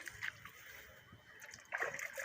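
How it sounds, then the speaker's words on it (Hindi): Water sprinkled by hand over puffed rice in a kitchen while making mora: soft splashing and pattering in short bursts, quiet and close, with a faint background hum. "तो चलिए हम ऐसे इस पर पानी थोड़ा सा छिड़क लेते हैं, ताकि ये हमारा नरम हो जाए"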